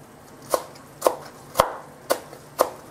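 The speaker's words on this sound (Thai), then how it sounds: "หั่นหยาบๆได้เลยนะ" Coriander roughly chopped with a knife on a board, five evenly spaced crisp knocks about half a second apart, close and clear with no talking.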